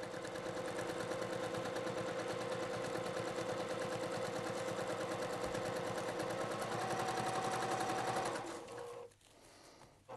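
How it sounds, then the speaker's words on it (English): A sewing machine runs steadily while stitching fabric for a padded gear bag, a close, continuous rapid whirring chatter that stops near the end. "I'm gonna take a few stitches, back stitch right to that point"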